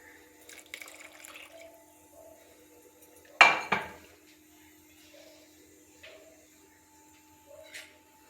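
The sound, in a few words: water being added to soaked tamarind in a pot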